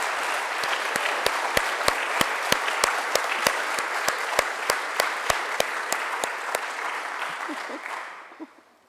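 Steady audience applause for family and friends at a Delaware Women's Hall of Fame induction, continuous clapping with a sharp regular tapping beat running through it, fading out near the end.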